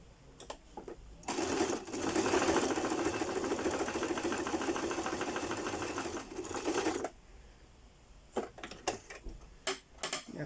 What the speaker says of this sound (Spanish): Y hacemos zigzag. Nuevamente en esa costura.